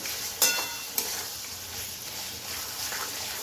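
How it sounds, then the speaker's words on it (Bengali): Figs being fried in hot oil for a Bengali fig curry, a steady soft sizzle with a couple of sharp pops near the start, heard close and alone. "প্রথমে ডুমুরটা দেবো ডুমুরটা দিয়ে কষে নেব"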